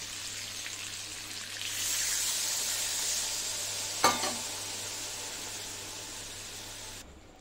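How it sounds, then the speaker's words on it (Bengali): Water poured into a hot fish curry sets off a broad, hissing sizzle that swells and holds steady, marked by a single sharp clack of a utensil midway before cutting off. "এবার জল দিয়ে দেবো।"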